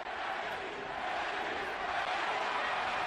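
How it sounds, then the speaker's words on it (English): A roaring boxing arena crowd during Manny Pacquiao vs Erik Morales, a dense, sustained mass of voices and cheering, fairly faint and distant, with no distinct chant rhythm standing out. "Pacquiao crowd chanting, Manny, Manny, Manny"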